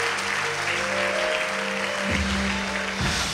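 A church congregation at a mission service claps steadily throughout, a dense continuous wash of applause over a low organ or keyboard tone that shifts pitch midway.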